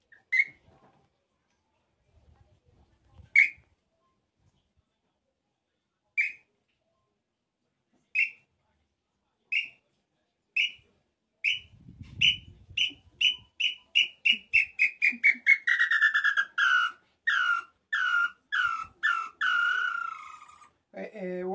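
Bird-call whistle imitating the nambu-pé-roxo tinamou: clean, clear whistled notes, widely spaced at first, then speeding into a rapid descending run of tones, with faint handling noise between.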